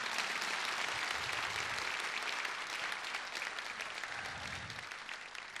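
A concert audience claps steadily in thanks to an orchestra, a dense, even wash of applause that holds throughout and eases slightly toward the end, without any voices.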